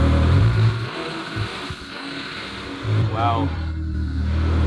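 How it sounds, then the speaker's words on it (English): A Ferrari engine with a blown head gasket and recent upgrades idles loudly, then gives a short rev near the end as one person speaks an exclamation over it. "Do you want to give it a little rev?"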